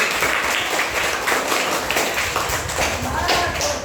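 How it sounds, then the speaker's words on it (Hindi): Students at a Navodaya Vidyalaya coaching class clap after a story, a loud, scattered burst of hand claps close by with voices mingled in. "ताली बजाइए बहुत अच्छी"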